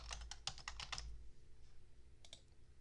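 Typing on a computer keyboard while entering a spreadsheet function, a quick run of close key clicks followed by a pause and two more taps, quiet in a still room.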